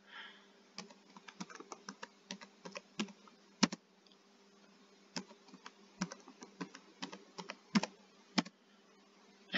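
A computer keyboard typing a command into a terminal: quiet, close, irregular key clicks in short bursts with a few louder taps and brief pauses, under a faint steady hum.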